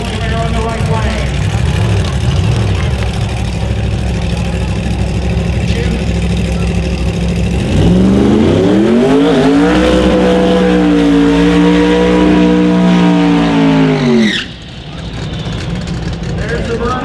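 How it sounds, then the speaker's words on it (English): A Chevrolet Camaro Pro Modified drag car at a drag racing event does a loud burnout. The engine drones, then climbs to a rising, sustained roar that cuts off sharply near the end and settles into a lower rumble. "There's the burnout for the Chevrolet Camaro, Carl Stevens"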